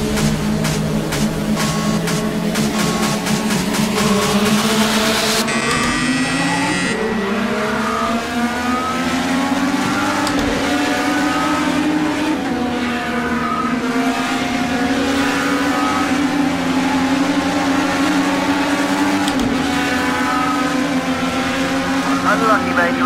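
IndyCar race car engine from a racing video game, heard from the cockpit view as a loud, continuous whine that rises and falls with gear shifts through the whole stretch, with a voice talking over it.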